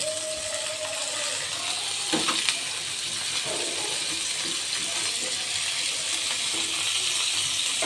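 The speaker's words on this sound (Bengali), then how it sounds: "আমি একটু ওয়েট করছি পেঁয়াজ ভাজা হয়ে যাওয়ার জন্য" Onions frying in a pan for a Bengali small-fish chorchori, a steady broadband sizzle that continues evenly throughout with a few soft clinks and stirring noises, and no talking.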